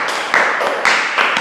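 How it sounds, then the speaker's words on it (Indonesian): An audience at an Indonesian accounting talk show claps for a guest, producing a short burst of close claps in uneven bursts with a bit of room noise. "tepuk tangan buat Pak Ihsan."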